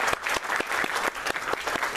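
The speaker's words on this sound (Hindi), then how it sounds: "तालियां" Audience at a Mohammed Rafi tribute event applauding a charity cheque presentation, loud continuous clapping from a crowded hall with sharp individual claps standing out near the microphone.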